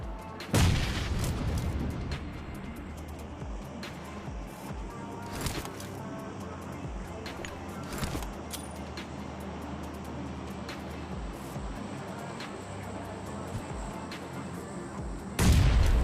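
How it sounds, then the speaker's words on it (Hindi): Gunfire and grenade blasts from the PUBG Mobile battle game, in a squad fight, sound as sharp booms and scattered shots over a continuous rumbling game background, with loud bursts near the start and end. "अब ये वाला जो ग्रेनेड है वो मैं डालता हूँ नॉकडाउन वाले बंदे को फिनिश करने के लिए"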